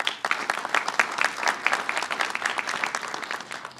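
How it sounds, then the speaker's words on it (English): Audience applause at a governor's press event, a short burst of brisk, evenly spread clapping from a modest crowd, close and fairly loud with no talking. "He deserves a round of applause."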